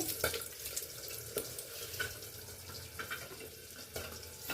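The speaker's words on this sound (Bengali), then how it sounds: "এখন আমি একটু রাইস ব্রেন অয়েল দিয়ে দিচ্ছি, শুকনো লঙ্কা ফোড়ন দিচ্ছি" Dried red chillies tempering in hot mustard oil with added rice bran oil for a fish curry, giving a steady crackling sizzle with occasional sharp pops and spatters, fairly quiet and alone with no talk.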